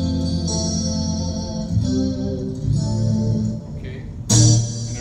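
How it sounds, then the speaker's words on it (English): Clean electric guitar through a Zoom G5n multi-effects patch with an acoustic simulator and reverb: sustained ringing chords and single notes with a bright, echoing tail, no voices. "A basic clean, right? Acoustic simulator too."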